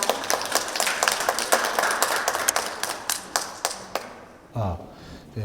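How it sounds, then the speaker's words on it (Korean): At a Swedish talk event in a library hall, an audience claps: scattered, crisp handclaps of moderate volume that thin out over a few seconds, then a brief voice and a microphone thump as the clapping ends. "큰 박수 부탁드리겠습니다."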